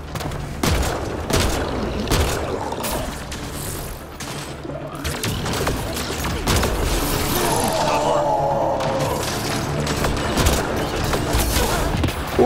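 Pistol fire from the video game Mass Effect Andromeda sounds in rapid, dense bursts of loud shots layered with booms and mechanical clatter, keeping up a continuous barrage throughout.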